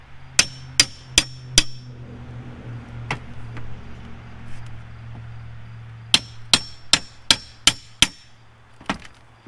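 A hammer knocks screws out of old dock boards that are being removed, in two quick bursts of four and six sharp metallic clangs separated by quieter scraping and handling.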